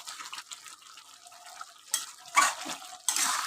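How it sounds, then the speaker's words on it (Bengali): Hot water poured over chicken cooking in a pot, a brief trickle then louder splashing pours and hissing bursts in the later half, close up with no talk. "আমি গরম জল দিয়ে এটাকে ঢাকিয়ে দেবো"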